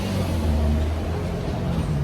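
A person imitates a tuned car's engine with their voice, a steady low droning rumble held for about two seconds, loud and close.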